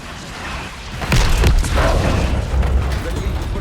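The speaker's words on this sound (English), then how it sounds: "Mortar on the way." A mortar strike in the video game Call of Duty Black Ops 6 lands as a loud, deep boom followed by rumbling debris. It is close and heavy, with game chatter around it.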